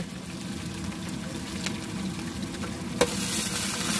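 Chillies and garlic sizzle in hot oil for a mutton curry at an outdoor picnic, a steady close frying hiss with occasional stirring scrapes and a sharper spatter near the end.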